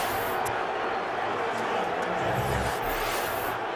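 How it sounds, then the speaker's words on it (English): An NFL stadium crowd roars after a touchdown in the Buffalo at New York Jets game, 2008: a dense, steady wall of cheering with a play-by-play commentator talking over it. "And this crowd cannot believe what they have seen"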